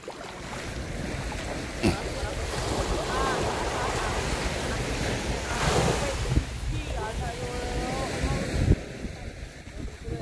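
Ocean waves wash steadily along an island sandbar beach in Surigao, a continuous broad surf rush with heavy wind buffeting the microphone and a few faint voices underneath.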